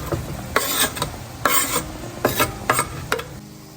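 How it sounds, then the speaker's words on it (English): Ground beef cooking in a pan with jalapenos and onions, heard as a steady sizzle with a series of scraping, stirring strokes at an irregular rhythm, close and fairly loud with no talking. "we're gonna wanna add in our jalapenos and our onions so that way they can reduce down with the beef and cook thoroughly"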